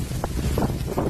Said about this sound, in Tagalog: Meron pa yang kidlat na sinabayan ng malalakas na hangin.